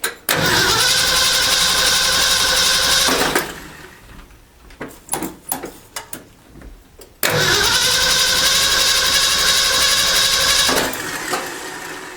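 A 1968 Ford F250 with a 390 FE V8 cranks twice without firing, each long stretch of steady whirring starter churn separated by a pause with clicks and clunks, loud and close.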